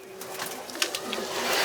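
A sturdy-boned domestic pigeon coos softly from close by, a short low rolling call over a faint steady background hum, with no talking.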